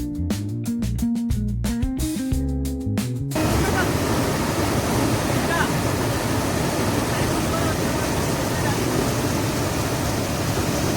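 Fast river water rushes near Kalu waterfall in Malshej Ghat, a loud, dense, unbroken roar that fills the scene once a short burst of music ends.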